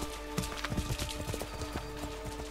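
Rhythmic clip-clop of horse hooves at a steady trot in Assassin's Creed 3: The Tyranny of King Washington, fairly close, over a constant low hum and faint background tones.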